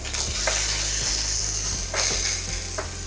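Meat sizzles steadily in a hot pan, with a close, continuous frying hiss and soft periodic scraping ticks.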